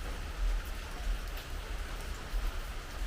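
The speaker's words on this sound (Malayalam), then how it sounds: "ചെന്നം പെന്നം മഴ." Light drizzle falling steadily in a homestead setting, a continuous soft patter of raindrops on surfaces with no voices.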